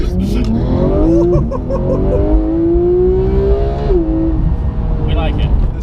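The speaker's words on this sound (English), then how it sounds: "This car's sick. What do you think of the GT3?" A GT3 car's engine drones loud and close from inside while driving, its pitch climbing steadily as it accelerates, then dropping briefly before pulling again.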